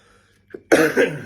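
After a brief quiet and a small click, a single loud, rough cough erupts close by, with a second push of breath right after.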